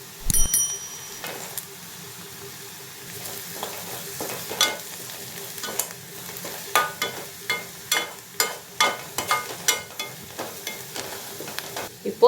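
Onions sautéing in a pan with chilli powder, a soft frying hiss under a series of sharp spoon scrapes and taps against the pan that quicken into a regular stirring rhythm.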